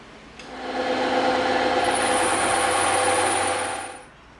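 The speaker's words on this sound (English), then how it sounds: "now what we're going to do is we're going to cut this out on the bandsaw." A bandsaw cuts through EVA foam as a loud, steady mechanical whine that ramps up, holds for about three seconds, then winds down, with no voices.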